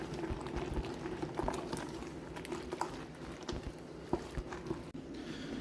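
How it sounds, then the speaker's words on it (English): Water comes to the boil in a canning pot for preserving apples in jars, a constant bubbling simmer with scattered soft pops and taps, fairly quiet and close, with no voices. "So that is just coming to the boil now."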